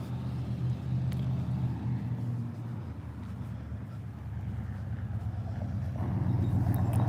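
A car driving by outside near the corner of a building at dawn, a loud low engine rumble that holds steady, dips, then swells again toward the end, with wind buffeting the microphone.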